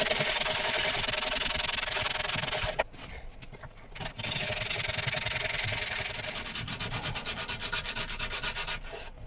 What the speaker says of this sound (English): Let's get on with some sanding